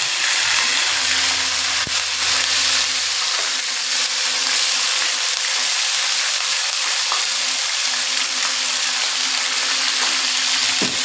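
Chicken sizzles in a pan with ginger-garlic paste, a steady, loud, close frying crackle that runs the whole time with no voices, and a low hum sits beneath it early on.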